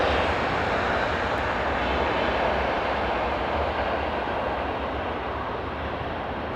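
Airplane flying low while landing gives a loud, continuous engine roar close by that holds steady throughout and eases off slightly near the end.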